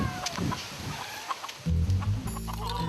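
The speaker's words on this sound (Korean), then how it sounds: "오, 닭이 많네." Chickens on a rural farm clucking close by, a burst of loud, busy clucks and squawks starting partway through after quieter outdoor ambience.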